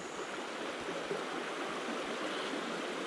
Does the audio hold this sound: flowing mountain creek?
yes